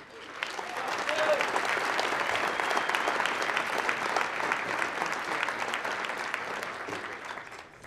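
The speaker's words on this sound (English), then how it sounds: "I do hope you give her a warm round of applause as she steps forward to the mic to introduce herself to you." A crowd at the Legacy of Hope 2018 celebration gives a sustained, warm round of applause, many hands clapping steadily and fairly loud for nearly eight seconds, swelling in and easing off at the close.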